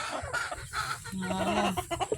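Chickens on a farm cluck and chatter close by in a busy, overlapping flurry of short calls, with a faint voice in the background.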